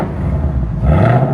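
Ford Mustang V8 in sport mode with exhaust valves open, revving close by with a loud, throaty rumble that swells toward the end of a short burst.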